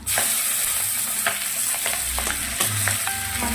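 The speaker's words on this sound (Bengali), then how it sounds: "পেঁয়াজটা একটু ভাজা দিয়ে দেবো" Onion frying in a pan hisses and crackles continuously, with a few clinks and scrapes of stirring close by and no voices.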